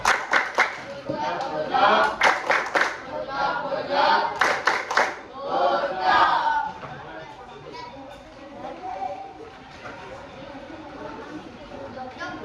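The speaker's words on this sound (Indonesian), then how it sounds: "kita beri tepuk jawab lagi untuk kelompok 2" A classroom group claps in a quick rhythmic call-and-response pattern of bursts, then chatter and voices carry on underneath as the clapping fades out.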